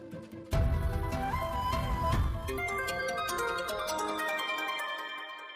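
A phone ringtone plays loudly and continuously as a melodic tune with repeating tonal notes, sounding alone while a call is being placed in a Telugu TV serial scene.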